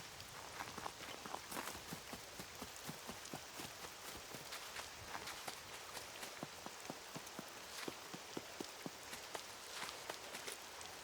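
Rain falls steadily in the survival video game Scum, a dense, even hiss with scattered sharper droplet ticks throughout, heard alone at a low level without voices.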